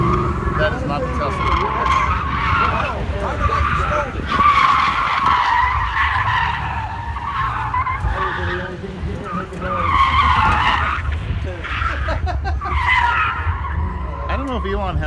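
A Tesla spinning donuts on an autocross course at a Goodguys car show in Del Mar, its tires squealing in long wavering screeches that rise and fall, with people talking over it.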